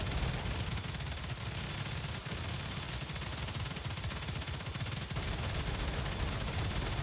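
Rapid automatic gunfire from a heavy-recoil gun in the StarRupture video game, a dense continuous barrage of shots with scattered booms layered in, steady and loud throughout with no talking.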